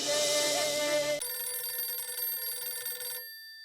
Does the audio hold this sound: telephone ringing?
yes